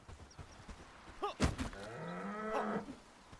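A cow in the video game Bellwright lets out a low, drawn-out moo near the middle, alongside soft hoof clops and other farm-animal noises.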